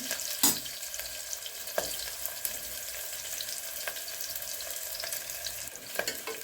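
Onion and garlic sautéing in oil, a steady soft sizzle and crackle throughout with a few brief sharper clicks of stirring, fairly close and alone.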